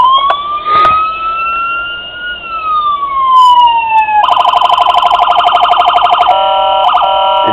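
A Ford Interceptor Utility sheriff diecast model sounds its toy siren loudly and up close, first a rising and falling wail, then a rapid warbling yelp.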